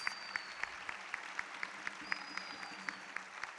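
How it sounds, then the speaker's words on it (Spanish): An audience at an annual gala claps in steady rhythmic unison, about three to four beats per second, a faint, distant even applause with a thin tonal whistle above it. "Un fuerte aplauso."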